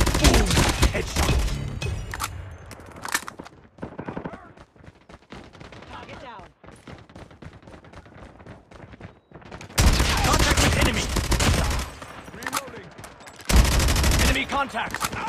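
Rapid bursts of automatic gunfire from the Call of Duty Mobile multiplayer video game, loud and dense, with heavy volleys at the start and again in the later part, separated by lighter scattered shots and game sounds.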